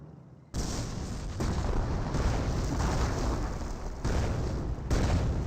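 A warfare artillery barrage in Company of Heroes, loud dense rumbling explosions rolling continuously after a sudden onset, with fresh blasts hitting around the one-and-a-half, four and five-second marks.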